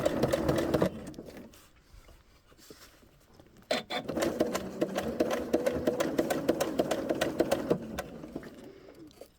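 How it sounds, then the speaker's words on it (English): A sewing machine back stitches slowly over a super thick jeans seam at the waist, first a short run, a pause, then a longer steady burst of rapid needle clatter up close. "Again, I'm back stitching at that super thick seam and I'm going super slow."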